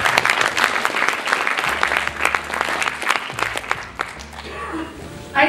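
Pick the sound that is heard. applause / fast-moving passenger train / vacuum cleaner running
applause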